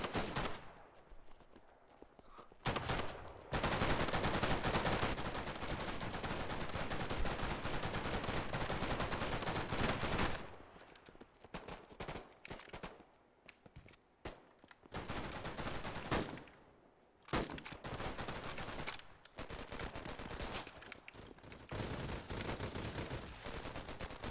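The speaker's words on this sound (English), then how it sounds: "Where's this guy shooting at us from?" Video game gunfire in a multiplayer shooter, with dense bursts of rapid automatic fire and single shots coming in loud, sustained stretches broken by short quiet gaps.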